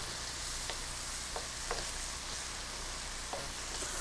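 Carrots and celery sauté in a frying pan with a little liquid, giving a steady, faint sizzle and hiss with a few soft clicks from stirring, and no talking.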